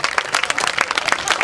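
Crowd at an American football game applauding an injured player, a broad wash of dense clapping and cheering from many spectators, steady throughout with an announcer's voice mixed in.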